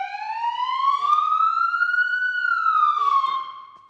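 A police siren wails from an upfitted Ford Interceptor, a single loud, close tone sweeping slowly up and back down, heard alone with no talk.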